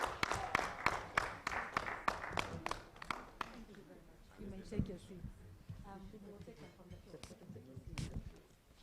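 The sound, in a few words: audience applause at a book launch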